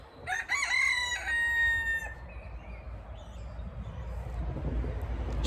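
A rooster crows loudly and close by, its harmonic call repeated, among roosters roaming a poultry yard that includes ermine-white birds, then fading into a low outdoor rumble with faint clucks.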